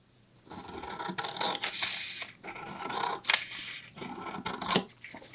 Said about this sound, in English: So we'll just cut our little pattern.